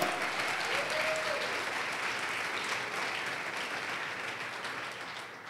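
Congregation applauding in a church service during a sermon on spiritual warfare, a steady dense wash of clapping held throughout with some faint voices mixed in.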